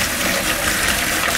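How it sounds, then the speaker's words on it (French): Hot tap water runs and splashes steadily over fumbwa leaves being washed, a continuous close rushing gush with no voices. "Je lave à l'eau chaude"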